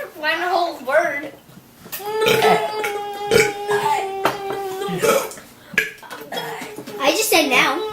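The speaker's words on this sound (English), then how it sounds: "you gotta burp it" A child burps the alphabet in a run of drawn-out, voiced belches with short gaps between them, loud and close, while others speak around the burps amid faint clinks of dishes and cutlery.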